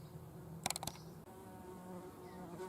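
Bees buzz steadily but faintly among flowering lupins in a bee-friendly garden in May, a low continuous hum with a brief cluster of sharper clicks early on.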